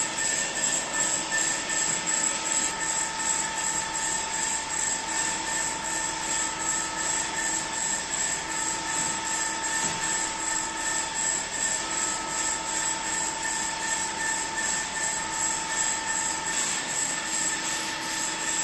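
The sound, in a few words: CNC machine axis jogging at 3000 mm/min feedrate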